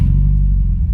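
Subaru WRX engine, loud and close, runs at a low, steady rumble for about a second with no voices.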